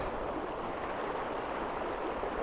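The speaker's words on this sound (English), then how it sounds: "Some of the water in the distance." Distant water flowing, a steady faint broadband rush with no distinct events and no voices, continuous throughout.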